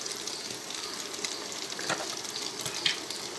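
Onion and egg frying in a pan for egg fried rice, a steady close hiss and crackle of sizzling oil running throughout with a few brief louder pops and stirring scrapes, no voices.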